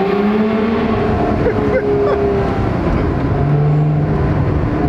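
A Lotus Exige at full throttle on a race track, its engine a loud, steady droning roar heard from inside the car, the pitch sliding as it pulls through the gears.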